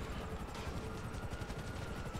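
Helicopter in the video game GTA V, a steady, dense rotor chop with a continuous low rumble that holds evenly throughout, fairly close and unbroken.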